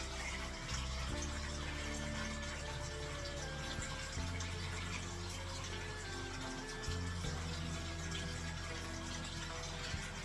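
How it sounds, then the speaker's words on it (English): Tap water runs steadily in a household setting, a continuous broadband rush with low hum shifts, alone and close. "I'm gonna turn the water on"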